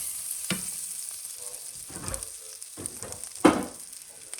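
Butter sizzling in a frying pan while a vegetarian omelet cooks, soft frying hiss broken by a few sharp spatula scrapes against the pan, one louder near the end.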